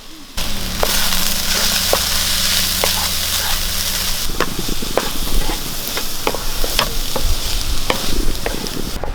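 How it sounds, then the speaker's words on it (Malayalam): Beetroot thoran stirred in a pan, a loud continuous sizzle joined after a few seconds by a brisk, rhythmic scraping and tapping of the spoon against the pan, close and with no talking. "നമുക്ക് തുറന്നൊന്ന് ഇളക്കി കൊടുക്കാം"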